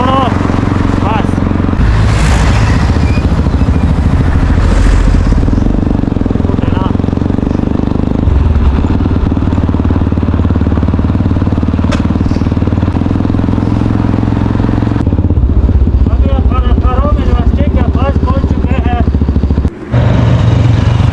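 A motorcycle engine runs steadily on the Karakoram Highway in Pakistan, a continuous close rumble throughout with a brief dropout near the end, while people talk over it.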